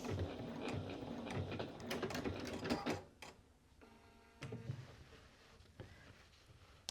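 A sewing machine back-stitches along a stay stitch line on a bomber jacket, a quiet mechanical whirring and ticking that runs steadily, then drops away and returns in short bursts.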